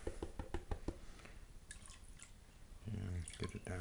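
Water sloshes in a gold pan holding small rocks, garnets and pay dirt as it is agitated, with short splashy bursts early and a heavier swirl toward the end, close and fairly quiet, under a man's speech.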